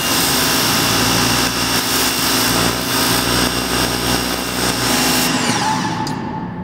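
Ryobi electric pressure washer running and spraying through a yellow chisel nozzle: a loud, steady, droning whine and hiss that holds level throughout, then cuts off sharply near the end.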